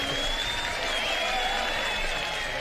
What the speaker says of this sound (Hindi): इब्राहिम साहब के लिए तालियां तो बजाएं यार